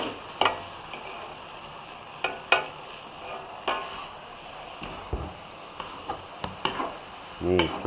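Pad see ew noodles stir-fry in a pan with dark soy sauce, a soft steady sizzle broken by sharp scrapes and clacks of the spatula against the pan, close and fairly quiet.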